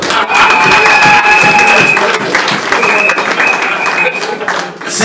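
An audience at a ceremony celebrating appointed and promoted members applauds loudly and steadily for several seconds, dense clapping with some cheering close by.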